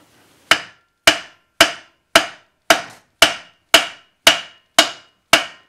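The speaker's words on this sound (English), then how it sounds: "I'm using the pry bar and hammer method on this." Ten sharp metallic hammer blows on a pry bar against the flywheel of a 14.5 HP Briggs & Stratton mower engine land at a steady, even pace, each ringing briefly before the next strike, close and loud with no talking.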